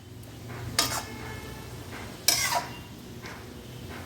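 Cabbage and chhana stirred in a pan coated with pepper and dry chilli oil, two sharp scraping clatters of a spoon against the pan over a low background hum.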